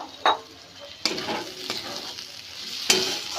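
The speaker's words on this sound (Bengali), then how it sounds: "এবার আবারও এটাকে ভালোভাবে কষিয়ে নিতে হবে।" Spices and fried potatoes are stirred in a sizzling pan for mutton-fat ghugni, with a steady fry hiss broken by a few scraping strokes of the spoon.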